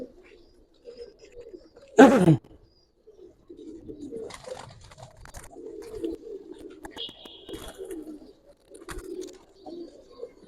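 Pigeons of fancy breeds, including army pigeons, coo repeatedly in a loft, soft low murmuring calls running through most of the stretch, with a sharp loud burst near the start and a brief higher chirp later.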